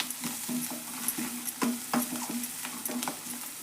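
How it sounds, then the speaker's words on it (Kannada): Garam masala and coriander powder being stirred into hot oil in a pan for an okra dry curry, a soft continuous sizzle with quick rhythmic scraping strokes of a spoon, close and clear. "ಇದನ್ನು ಮಿಕ್ಸ್ ಮಾಡೋಣ್ರಿ ಎಣ್ಣೆ ಒಳಗೆ"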